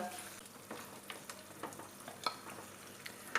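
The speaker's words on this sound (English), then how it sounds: "let me just add the boiled meat into the" Boiled buffalo beef frying in a pan for a Kerala-style beef fry, a steady low sizzle broken by scattered scraping clicks and light clatter as it is stirred, fairly quiet and close, with no talk.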